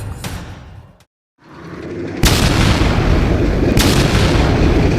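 Heavy booms of cannon fire, a deep blast fading into brief silence, then another loud roaring report that rumbles on continuously.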